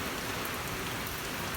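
Rain pours steadily in a New Orleans East backyard during a tornado watch, a dense, even hiss of drops hitting surfaces with no pauses or voices.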